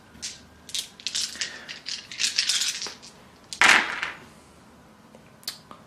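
Dice for the Elemenz board game clatter and rattle in a quick series of rolls, with a louder burst of tumbling midway and a few faint clicks near the end.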